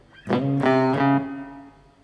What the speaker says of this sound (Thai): หลังจากเพื่อนๆดีดนะครับ เพื่อนๆแตะ ปิกหรือว่าสั่นนิ้วตรงนี้นะครับ ลงไปที่สายที่เราดีดนะครับ เสียงมันก็จะหยุดสั้นนะครับ